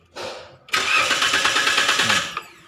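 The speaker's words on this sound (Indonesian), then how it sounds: "mengeluhkan masalah mobil Calya-nya itu susah starter ya" Toyota Calya car engine struggling to start: a short crank, a pause, then a loud, sustained rough cranking that catches briefly before cutting off, close and alone with no talk.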